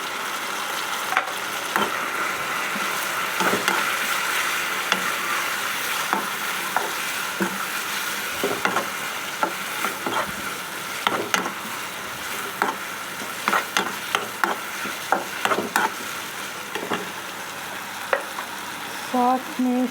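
Bell peppers frying in a pan with a steady loud sizzle, broken by repeated scraping clinks of a utensil stirring, close and continuous without speech.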